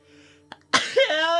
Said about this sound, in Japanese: くしゃみ止まんない。